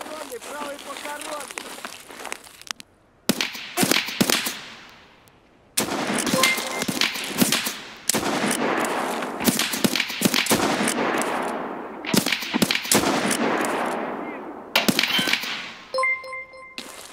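Bursts of automatic gunfire in Escape from Tarkov, in loud, rapid volleys separated by short pauses, with a few metallic clinks near the end and a voice talking over the shooting.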